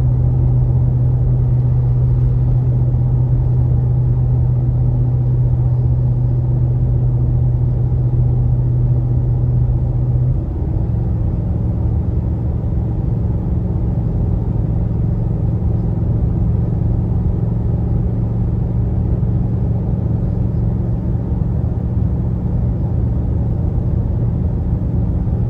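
Steady car engine drone while cruising on the road at 65, around 8th gear near 2,300 rpm, a constant low hum with road rumble that shifts slightly in pitch partway through, continuous and fairly loud with no talking.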